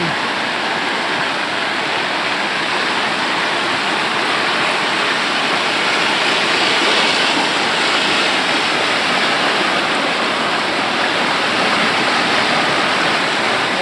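Swollen village stream after heavy rain, floodwater rushing hard in a steady, loud, broadband roar that fills the whole stretch without a break.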